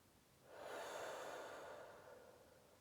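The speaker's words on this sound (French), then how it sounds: "on inspire, légère tension, quelques grimaces, et on expire fortement" A single strong, breathy exhalation during a guided relaxation breathing exercise, soft and close, swelling and fading over about two seconds with no talk.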